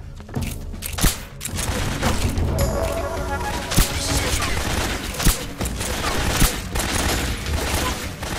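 Gunfire in the stealth game Metal Gear Solid 3 erupts in loud bursts and volleys with sharp shots cracking through dense combat noise, while someone talks over it.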